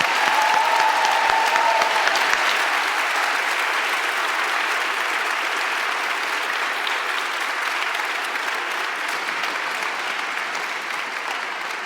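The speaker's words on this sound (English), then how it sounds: "could we give a round of applause for Mr." An audience at a graduation ceremony applauds for a teacher, a dense, sustained clapping that fills the hall and fades slightly toward the end.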